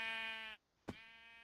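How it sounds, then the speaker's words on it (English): A Minecraft sheep gives two bright, nasal bleats, close and alone, separated by a short gap. "Sheep, you will be a noble sacrifice."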